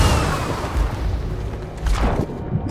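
Video game gunfire as heavy booming shots and blasts, loud and close, with rumbling thuds and a whooshing burst near the end, no voices.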